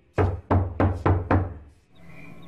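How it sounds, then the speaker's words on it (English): Five heavy, evenly spaced knocks on a door in a horror film, loud and resonant with a deep thud, followed by a faint lingering ambience. "there's this mysterious knock on the door"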